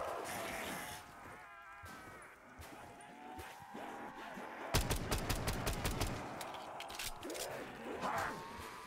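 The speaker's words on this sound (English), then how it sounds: "I just want to empty the whole 1911." A rapid burst of Colt 1911 pistol shots in Black Ops 3 custom zombies, a string of sharp repeated cracks emptying the magazine, preceded by game ambience and movement noise.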